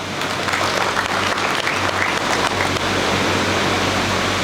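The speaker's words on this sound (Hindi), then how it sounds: "एक बार उनके स्वागत में जोरदार ताली" An audience at an honours ceremony breaks into loud, continuous applause to welcome the honoured guests, a dense roar of clapping over a low background hum.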